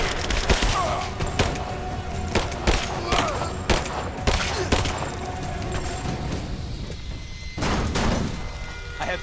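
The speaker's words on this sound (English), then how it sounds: "Give me suppressing fire! Now!" Rapid bursts of automatic gunfire and scattered shots crackle through a firefight in the video game Rise of the Tomb Raider, loud and close, with thuds between volleys and brief shouted voices.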